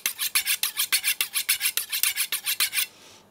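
Close, crisp rasping of a kitchen knife drawn over a sharpening steel in a rapid, regular run of about twenty strokes that stops abruptly, with no voices.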